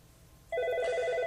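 An incoming VoIP call rings on a computer: after a brief quiet moment, a bright electronic ringtone starts abruptly and repeats in rapid, steady pulses, clear and alone.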